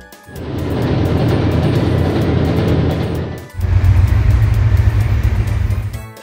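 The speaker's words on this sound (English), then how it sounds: "Freight train." A freight train passes close, a loud continuous rumbling roar with heavy low-end churn that drops briefly and surges again in a second dense pass.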